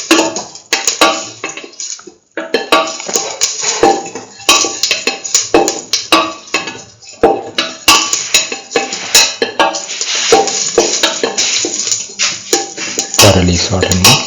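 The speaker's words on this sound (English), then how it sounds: "Thoroughly salt and mix." Fennel and caraway seeds being mixed with salt in a bowl, a steady run of close, busy scraping and clinking of a utensil against the dish with a brief pause early on.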